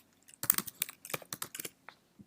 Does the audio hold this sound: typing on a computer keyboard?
yes